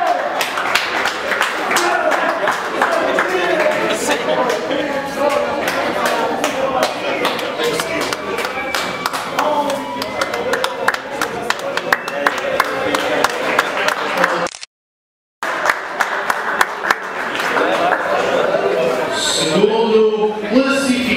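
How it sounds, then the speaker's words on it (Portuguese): A crowd at a darts league awards ceremony claps for a third-place finisher in a dense, continuous burst of applause with a momentary dropout, then resumes at full strength. "Salve de palmas para o Luís."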